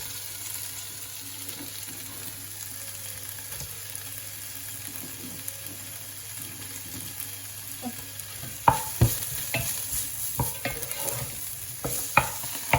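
Onion, garlic and ginger sizzle in a pan over a low, steady hiss, then sharper scrapes and stirring clatters take over in the final seconds, close and moderately loud with no talking.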